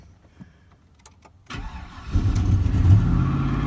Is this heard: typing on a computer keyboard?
no